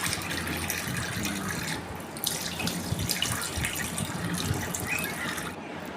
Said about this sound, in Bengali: তো হাত মুখগুলো ধুয়ে নিচ্ছি